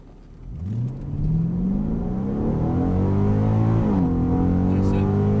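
A Mercedes-AMG car at a driving experience accelerates hard, its engine note climbing steadily with a brief dip at a gear change before rising again, loud and close with a faint voice underneath.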